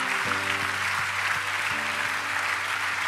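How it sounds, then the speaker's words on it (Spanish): A church congregation claps together in praise, a steady wash of hand clapping heard at moderate distance while a sustained organ-like chord plays underneath. "Denle un aplauso al Señor, aleluya,"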